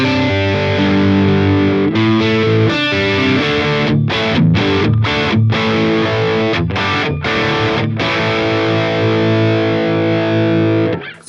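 Distorted electric guitar played through a Helix Friedman BE-OD amp model, loud sustained chords and riffs with bright edge and audible string noise, broken by a few short choked stops.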